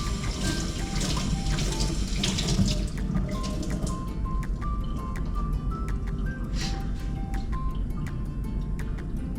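A kitchen tap runs steadily into a sink while food is washed, a continuous close splashing rush of water with small clinks and drips scattered through it.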